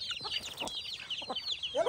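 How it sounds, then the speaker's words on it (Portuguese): A farmyard flock of about fifty hens with two roosters clucks and squawks continuously nearby, overlapping busy calls and chatter with a louder squawk near the end and no voices. "Tem dois galos. Tem bastante galinha, né?"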